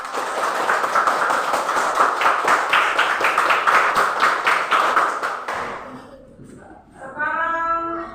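A classroom group of students claps hands together for several seconds, a dense rapid patter that stops abruptly before someone begins speaking.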